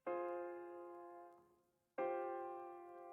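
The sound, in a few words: dark minor triad chords on Noir Pure piano preset in FL Studio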